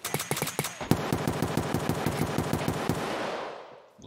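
Rapid automatic gunfire from heavy weapons in a PvP firefight in Escape from Tarkov, bursts of sharp repeated shots close and loud, then a sustained stream of fire that fades out near the end.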